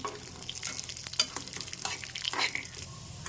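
Kajjikaya pastries fry in hot oil, a continuous soft sizzle with occasional stirring clinks and spatter pops, close up and with no voices.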